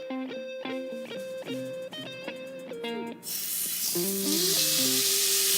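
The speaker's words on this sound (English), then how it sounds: "Definitely be sizzling when you put it on there." Loud hissing sizzle of a pot roast searing in a hot pot surges up and continues, following a run of short tonal notes like music playing.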